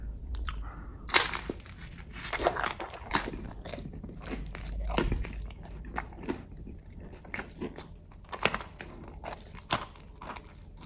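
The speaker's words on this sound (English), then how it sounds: "Good crunch, right?" Crunchy crust of a medium Domino's cheeseburger pizza being bitten and chewed up close, a series of sharp crackling bites and crunches spread over several seconds with no talking.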